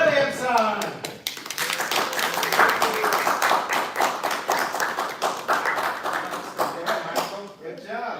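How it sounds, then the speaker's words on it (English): Audience applause at a Toastmasters open house meeting, a dense spread of clapping hands that swells and holds for several seconds before thinning out, with speech over it. "And so please, a round of applause for our table, or we can do also this table topics winner."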